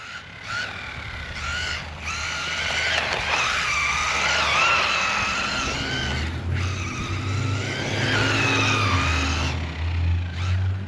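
A mini MJX Hyper GO 14301 RC car drives and skids across the ground on a 2S battery. Its electric motor whines loudly with repeated screechy tire skids and rising and falling revs, alone and close by.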